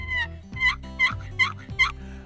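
A Flextone wooden turkey box call, its lid slid across, yelps in a quick rhythmic series of four raspy, high-pitched notes, close and clear, with no talking.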